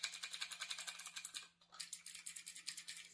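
Mechanical keyboard keys clicking in quick, rhythmic bursts of typing, close and clear, with a brief pause midway before the clatter resumes.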